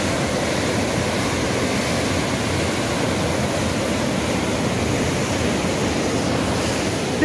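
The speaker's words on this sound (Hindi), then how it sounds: "बहुत ज़्यादा तेज़ बहाव है, मतलब अगर यहाँ पे कोई डूब गया ना गाइस तो उसकी लाश भी नहीं मिलेगी" The fast-flowing Beas river at Manikaran rushes in a dense, steady, loud roar of churning water, continuous and unbroken with no voices over it.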